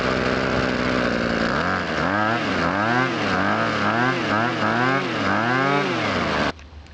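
Small two-stroke engine on handheld outdoor power equipment, run warm during winterizing, droning loudly up close with rhythmic revving swells before cutting off abruptly near the end.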